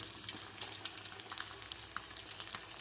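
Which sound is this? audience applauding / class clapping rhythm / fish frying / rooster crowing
fish frying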